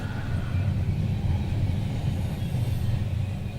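A train rumbles past nearby, a steady low, heavy roar that holds evenly throughout with no voices over it.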